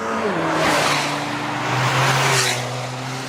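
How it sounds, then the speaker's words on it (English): Toyota GR Corolla engine heard from under the hood, a loud close drone rising and falling as the car is revved and pulls through gears, with two surging swells. "So I'm going to stick my little microphone here under the hood of the GR Corolla."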